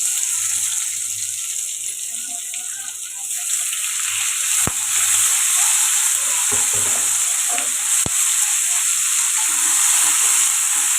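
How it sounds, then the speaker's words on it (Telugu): Onions and tomato fry in oil for a paneer masala curry, a loud, steady, close sizzle with a few faint clicks of stirring. "ఇప్పుడు అదే ఆయిల్లోని ఆనియన్స్ టమాటో ఫ్రై చేసుకోండి"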